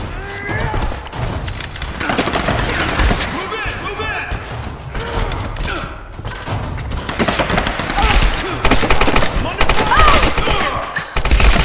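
Loud, dense gunfire from the Tomb Raider video game, with rapid repeated shots and bursts crowding the whole stretch alongside game action and clatter.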